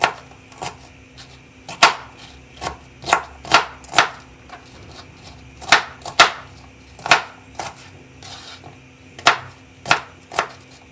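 A knife chops an onion on a cutting board in irregular sharp taps, about a dozen crisp strikes close by with short pauses between them.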